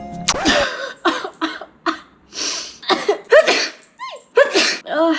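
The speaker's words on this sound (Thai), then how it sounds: "แม่จามเฉย ๆยังรอดอยู่นะคะทุกคน" A woman sneezes sharply and close up, followed by a run of short, breathy bursts in quick succession.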